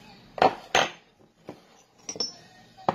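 Glycerin being stirred in a small mortar, heard as a few sharp clinks and taps of the pestle against the bowl, irregular and close, with quiet gaps between.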